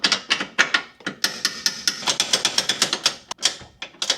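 A hand ratchet tightens a subframe bolt on a Porsche 911 Turbo in a rapid, loud run of sharp metallic clicks in short bursts, heard close up with no voices.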